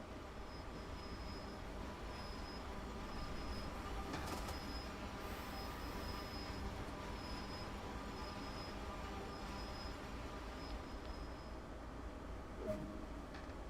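A locomotive on the Sand Patch Grade route in the game Train Sim World 2 gives a steady, continuous rumble with rail noise and a repeating faint high beeping tone throughout, with no talk.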